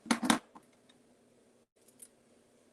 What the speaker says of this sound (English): I'm going to use 6 inches and cut it.